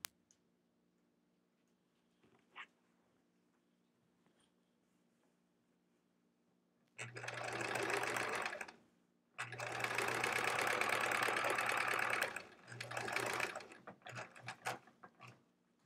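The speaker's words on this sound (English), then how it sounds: "I'm going to sew it right on there." A sewing machine stitches fabric onto a quilt back, several bursts of rapid mechanical whirring and clatter after a quiet start with faint handling noises, no talking.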